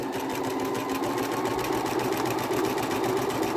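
A sewing machine running steadily as it zigzag-stitches jersey fabric for a tunic, a close, continuous rapid whirring hum with no pauses and no talk.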